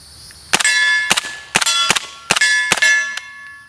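An MP5 submachine gun fires subsonic rounds into a dirt berm, four rapid short bursts of loud, metallic, ringing reports close up, each burst a quick cluster of cracks, then a final lone shot.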